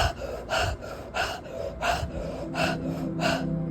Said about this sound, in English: Inhaling through the mouth, exhaling through the mouth.